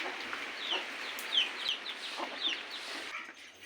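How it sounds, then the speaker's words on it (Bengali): Chickens clucking softly in short, scattered calls over a constant hiss of falling rain at a rural home, fairly faint and close by. "আর বৃষ্টি পড়লে যেটা অসুবিধা সেটা হচ্ছে মুরগি সব কিছু এই জায়গাটাতে চলে আসছে"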